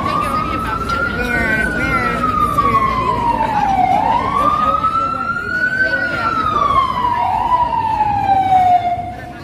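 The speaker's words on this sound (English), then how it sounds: "So many sirens." A loud, continuous wailing siren rises and falls in slow sweeps, close by, with traffic rumble underneath.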